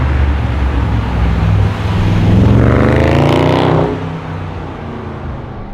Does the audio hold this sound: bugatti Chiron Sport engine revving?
yes